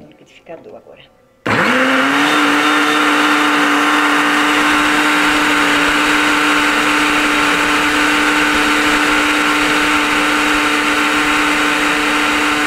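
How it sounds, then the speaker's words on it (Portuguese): After a moment of quiet kitchen sounds, a blender switches on with a loud, steady high whir that runs continuously and close by. "Passar no liquidificador agora."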